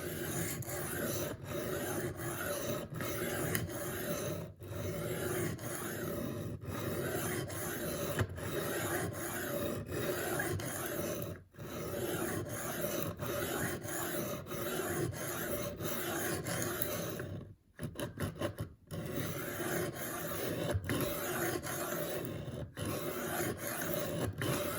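A Spyderco Gayle Bradley 2 knife with M4 steel is sharpened, giving steady rasping strokes of blade against stone, repeated continuously and close, with a few brief pauses between passes.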